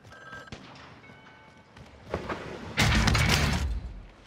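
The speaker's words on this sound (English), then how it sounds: "The phone is ringing." A telephone rings in the Call of Duty: Modern Warfare video game, with faint repeating ring tones at a distance, then a loud crash of breaking, shattering debris near the end.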